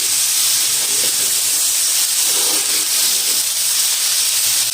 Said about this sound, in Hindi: इसको अच्छे से मिक्स कर लेंगे और इतना इसको हमने फ्राई करना है कि हमारी वेजिटेबल्स जो हैं वो थोड़ी सॉफ्ट हो जाएं।